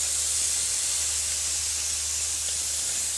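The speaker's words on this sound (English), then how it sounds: "Give them a quick spray with the olive oil." A steady, loud hiss of olive oil spray onto vegetables on a grilling tray runs unbroken throughout, close and continuous with no talking.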